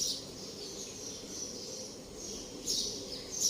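Faint birds chirp in the distance at Kanyakumari, with a few brief high calls over a steady outdoor hum.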